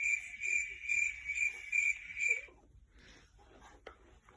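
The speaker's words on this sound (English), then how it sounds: "I could hear the tweeting crickets" Insects chirp in the savannah in regular, pulsed bursts, high and fairly close, then stop abruptly partway through, leaving quiet background rustle.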